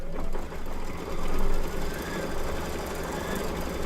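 An embroidery machine stitches an appliqué placement line for a llama mug rug, a steady, fast mechanical whir with rapid needle pulses running continuously and fairly close.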